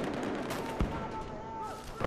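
Gunfire in a Battlefield 4 Rush match: a dense, continuous rattle of shots and booming reports, with one sharper close bang in the middle, under a busy game mix.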